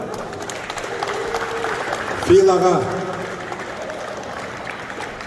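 Banquet audience at a Kyrgyz sports tournament celebration in America keeps applauding, a steady bed of clapping while a voice briefly calls out over it.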